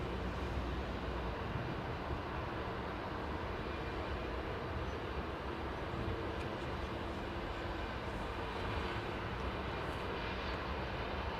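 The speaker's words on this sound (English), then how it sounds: "Big Joe loves the 767" A United Boeing 767 airliner roars at London Heathrow Airport, with loud, steady, broadband jet noise that holds unbroken throughout and sounds distant but dominant.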